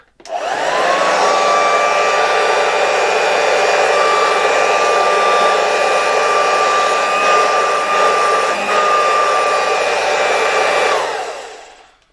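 A 1992 Royal Dirt Devil model 150A vacuum cleaner switches on and runs with a loud, steady high-pitched whine for about ten seconds before shutting off.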